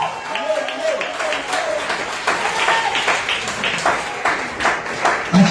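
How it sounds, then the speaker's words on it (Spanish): A church congregation claps in praise during a sermon, starting under a speaking voice and swelling into steady, mid-distance applause that fills the room. "Si puede aplaudir al Señor,"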